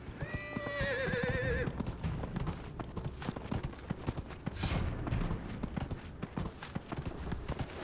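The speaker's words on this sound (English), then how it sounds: "Can I jump with the horse?" A horse in the video game Dragon Age Inquisition gallops with steady clip-clop hoofbeats, opening with a loud, wavering neigh, then pounding on under game ambience and scattered impacts.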